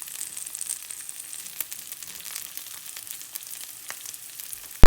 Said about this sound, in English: the mushrooms and the olives have been cooking